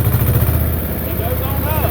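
A Belarus 250 tractor engine runs loud and close with a steady low rumble while someone talks over it; the pitch lifts slightly toward the end as the throttle is opened.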